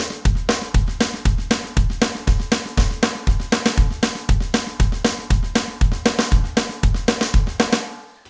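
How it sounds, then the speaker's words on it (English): A country train beat on a drum kit: steady driving pulses with a busy snare shuffle and a thumping kick, loud and close, played alone for several bars before ringing off. "what's the most country drum beat in the world, I'd probably say it's a train beat, something that sounds like this."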